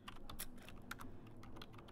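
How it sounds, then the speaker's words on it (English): Quiet, fast typing on a computer keyboard during a text-editing task, a continuous stream of soft clicks close by with no voices. "And I can start typing."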